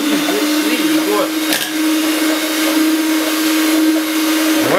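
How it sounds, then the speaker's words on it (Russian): An electric hand mixer whirs steadily while homemade ice cream is being made, a loud continuous motor whine with a slight dip partway through, under soft talk from adults and children nearby. "О, Алиса тоже миксером у нас. Работает"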